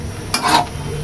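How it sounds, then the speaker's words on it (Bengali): Radish greens with prawns being stirred in a pan, one short scraping, sizzling stir that rises briefly in the middle of a quiet kitchen background. "এখন আমি ঢাকনাটা উঠিয়ে নেড়ে চেড়ে শাকটা যাতে নিচে পুড়ে না যায় সেই জন্য শাকটা আস্তে আস্তে করে এরকম করে নেড়ে"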